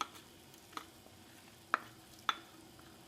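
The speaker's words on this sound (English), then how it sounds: "Stir it continuously and cook it for 10 minutes." A utensil scrapes and knocks against a pot of pork and broken rice congee in a few sharp, evenly spaced strokes over a quiet background hiss.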